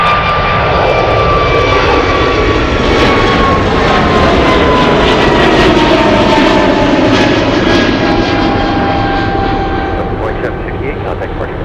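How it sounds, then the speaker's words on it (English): Delta jet airliner departing Anchorage bound for Seattle, a loud sustained engine roar with a high whine that slowly falls in pitch, with a voice talking briefly over it. "This is the Delta flight. We have Delta flying to Seattle."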